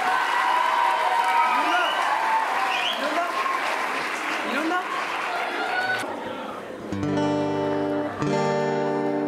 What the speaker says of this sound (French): On peut s'applaudir encore très très très très très fort